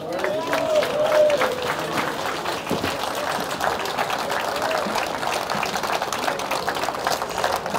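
An audience applauds Charles-Henri Gallois at an event, a dense, steady wash of clapping through the whole stretch with crowd noise and voices mixed in.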